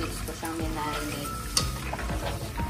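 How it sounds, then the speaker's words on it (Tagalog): Marinated Bisaya-style adobo fries in a pan on a home stove, with a steady close sizzle and occasional stirring and scraping sounds. "Piprituhin ko muna siya saglit."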